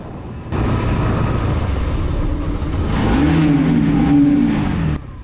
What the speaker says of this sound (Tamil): இந்த டனலில் ஒரு ரெவ் பண்ணி பார்ப்போம்